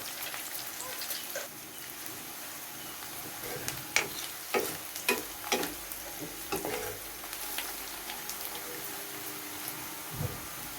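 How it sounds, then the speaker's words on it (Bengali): Onion frying and being stirred in a pan for a spiced beef brain dish, with a steady crackling sizzle and a series of sharp spoon scrapes and knocks against the pan, close and fairly quiet. "পেঁয়াজটাকে ভালো করে বেজে নিতেছি"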